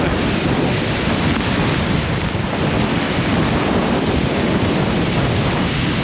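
Storm waves on Lake Erie crashing ashore in a monster storm, a steady loud roar of surf churned together with heavy wind buffeting the microphone throughout, with no voices.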